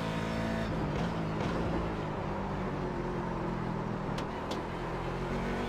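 Race car engine in iRacing at Watkins Glen, an IMSA car droning steadily under throttle with a constant loud tone and slight pitch wavering as the throttle is jabbed.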